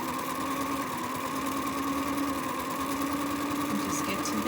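A sewing machine running steadily as it zigzag stitches over dental floss, a constant close mechanical hum and rapid needle chatter with no pauses.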